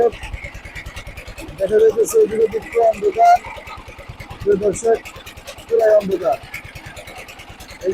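A fishing boat's engine chugs on the Padma river, a fast, steady mechanical putter close by, with people talking loudly over it in several bursts.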